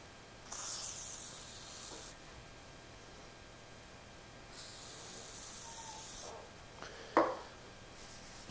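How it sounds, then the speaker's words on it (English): WD-40 lubricant is sprayed onto the ways of a wood-turning lathe in two separate hissing bursts, each lasting a second or two, close and fairly soft, with faint handling noises afterward. "To lubricate my ways, I'm just going to use a little WD-40."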